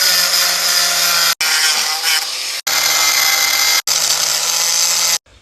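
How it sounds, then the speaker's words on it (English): A power tool bites into a metal safe in bursts, four loud continuous grinding runs separated by short abrupt pauses, close and harsh with no talking. "ready to cut open the safe"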